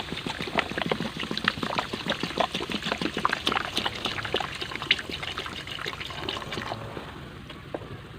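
Used car battery acid is poured over old nails to soak them, a continuous close trickling and splashing of liquid that eases off toward the end.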